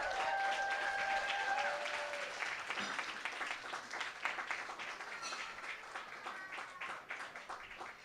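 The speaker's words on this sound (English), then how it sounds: "Please, a round of applause for our NHN staff members." An event audience applauds staff members of the Neighbors Helping Neighbors charity bash, a full roar of many hands clapping that slowly thins, with a few voices and faint whistles mixed in.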